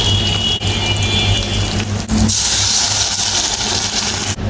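Beef tongue lightly frying in a pan gives a steady, close sizzling hiss with a brighter burst of spitting midway, continuous and alone without talk.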